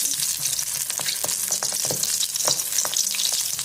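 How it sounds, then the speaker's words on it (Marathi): Stuffed capsicum peppers sizzle in hot oil, a dense nearby crackle with quick sharp pops over an even frying hiss, no speech present. "आता आपलं हे तेल गरम झाले बघू शकता छान असं तेल गरम झालं त्याच्यामध्ये आपण ही मिरची सोडून घ्यायची"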